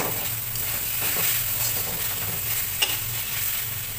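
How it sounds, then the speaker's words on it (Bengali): Spinach chorchori frying in a pan while being stirred, a dense steady sizzle close up with faint scraping strokes and a single brief clink, no talk. "এখন আর একটু নেড়েচেড়ে মিশিয়ে নিচ্ছি"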